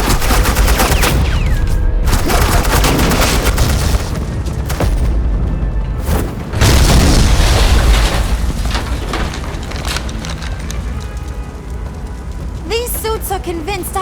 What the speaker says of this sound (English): I said suppressing fire!